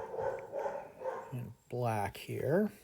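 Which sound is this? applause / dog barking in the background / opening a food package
dog barking in the background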